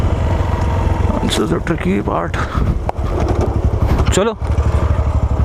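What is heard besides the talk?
Hero Xpulse motorcycle engine revving on off-road trail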